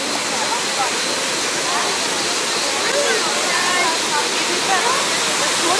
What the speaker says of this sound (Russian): И отсюда уже открывается вид на